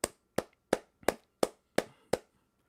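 Seven sharp hand claps ring out in a slow, steady rhythm, each one close and crisp with a short decay, with no talk around them.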